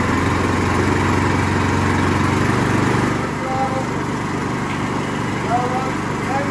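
A Predator 212 small engine, a Honda clone, runs steadily during break-in at a little under half throttle, a loud continuous drone that eases slightly partway through, with faint talk over it.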